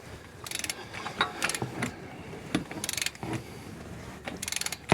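A ratchet wrench tightens the oil filter on a Toyota RAV4. Several quick bursts of clicking pawl ratcheting repeat with pauses between, close and fairly crisp, with no talking.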